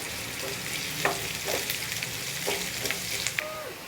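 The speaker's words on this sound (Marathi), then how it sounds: "आता त्याच्यामध्ये एक मोठ्या आकाराचा कांदा असा स्लाईसमध्ये कट करायचा आणि त्याला सगळा मोकळा करून घ्यायचा आहे आणि त्याला थोडासा आपल्याला फ्राय करून घ्यायचा आहे" A large sliced onion fries in hot oil in a pan, giving a close, continuous sizzle with intermittent scraping stirs and small clinks, heard alone without talk.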